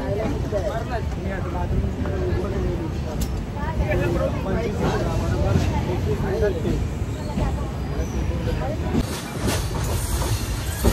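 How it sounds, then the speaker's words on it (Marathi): A departing train rolls along with rhythmic clickety-clack of wheels on rails, steady rumble throughout, while people talk nearby. "ट्रेन सुटली आता"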